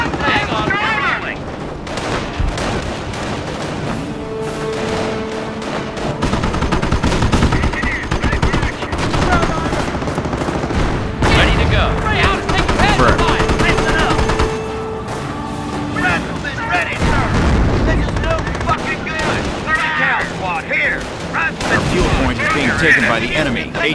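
Loud battlefield gunfire in the World War II strategy game Company of Heroes, during a mission at Montebourg: rifle and machine-gun bursts, thudding artillery and explosions in dense waves, mixed with radioed unit voices calling out.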